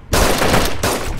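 Rapid burst of loud, close gunfire from the DayZ standalone survival game, a sustained volley lasting about a second with a brief gap before the shots resume.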